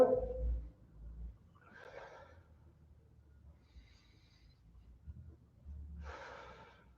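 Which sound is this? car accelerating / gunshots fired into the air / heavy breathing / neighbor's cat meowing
heavy breathing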